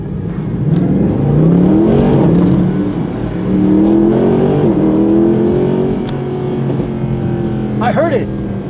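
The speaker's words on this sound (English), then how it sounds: "it's pretty impressive that this is not modded and it sounds that good, and it's still got some pops and bangs" Unmodified Mercedes SLS AMG Black Series revving hard, engine pitch rising and falling with a few sharp exhaust pops near the end, loud and close, with people talking in the background.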